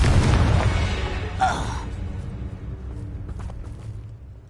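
A Confringo blasting curse explodes in a Harry Potter video game, a heavy low boom at the start that decays with a brief whooshing flare, then a fading rumble.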